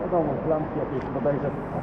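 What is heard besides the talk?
No everyday noises stand out.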